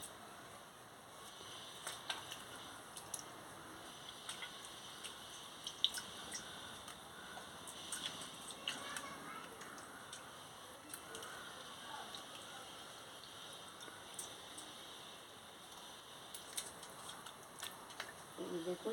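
Water drips and splashes softly as a roasted pointed gourd is rinsed of ash by hand, a quiet, steady trickle with small irregular splashes throughout.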